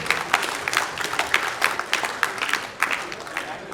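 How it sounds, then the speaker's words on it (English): A round of applause from an audience at a Lagos alumni branch gathering, with distinct individual claps rising and falling in uneven bursts close by, fairly loud, with no voices on top. "Let us give him another round of applause, please"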